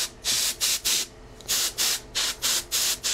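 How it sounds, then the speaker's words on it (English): Short hissing blasts of canned air blowing dust off a model rocket fin, about nine quick sprays in an uneven rhythm, close and fairly loud. "I'm going to take some canned air and I'm going to blow out the grain of"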